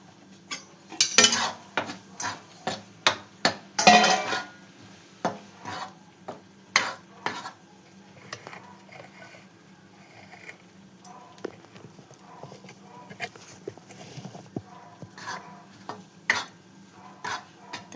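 Gram flour being dry-roasted in a pan for besan laddu, with repeated scraping and stirring clicks of a spoon against the pan, some in quick bursts and others more spaced, close and fairly quiet.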